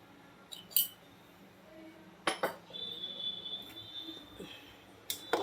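Metal spoon clinks and scrapes against a pan while Amritsari pindi chole, a chickpea curry, is stirred, sharp strikes scattered over a quiet background with a faint high tone in the middle.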